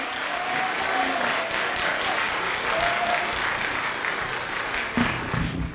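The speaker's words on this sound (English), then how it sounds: "applause to Mia Swingle, who is playing in our pre-performance." Audience applause at a school winter instrumental and choral concert, a sustained wash of clapping from many hands lasting several seconds before tapering off, with a voice briefly heard near the end.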